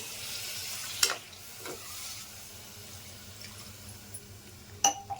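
A curry being stirred in a pan after water has been added, giving a steady low wet simmer and scrape with a couple of sharper utensil knocks against the pan.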